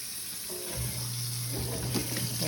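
Tap water runs steadily into a sink in a home kitchen while water is measured out for sourdough bread, a broad close hiss with a low hum underneath, no voices.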